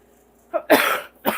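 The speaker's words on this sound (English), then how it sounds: "Sorry. I'm coughing." A short cough followed by a harsher, longer cough and another quick burst, close up and fairly loud.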